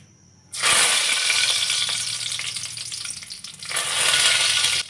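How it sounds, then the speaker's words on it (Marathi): Curry leaves hit hot oil in a pan and burst into a loud, close sizzle that eases a little, then surges again near the end. No one speaks. "सगळ्यात अगोदर कढीपत्त्याची पानं घातली तेलामध्ये."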